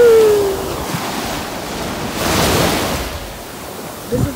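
Ocean surf rolls onto the beach at Orange Beach, a continuous wash of breaking waves that swells and recedes, with wind buffeting the microphone at the start and a short knock near the end.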